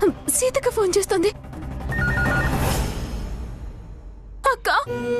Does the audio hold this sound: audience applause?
no